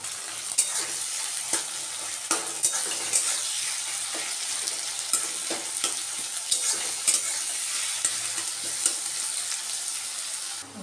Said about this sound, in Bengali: এদিকে চাউমিনের সবজিও ভাজা হচ্ছে